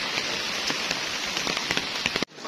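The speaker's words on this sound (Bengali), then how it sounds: "খুব বৃষ্টি হচ্ছে" Heavy rain pours down in a dense, continuous patter with scattered louder drops, then cuts off abruptly near the end.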